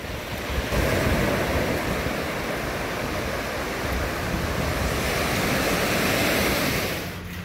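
Ocean waves washing in continuously on Corbyn's Cove, a sandy Andaman beach without rocks, a broad steady roar of surf with wind buffeting the microphone, loud and unbroken, no voices.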